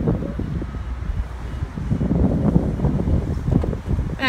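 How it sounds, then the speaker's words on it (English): Steady wind rumbling and buffeting the microphone outdoors, a continuous low roar with no voices. "It's windy out here."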